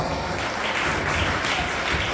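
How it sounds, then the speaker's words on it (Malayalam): Audience applause at a gathering, a dense, steady burst of many hands clapping together for a short stretch, fairly close and full without any talk over it. "നല്ലൊരു കൈയടി കൊടുക്കാം."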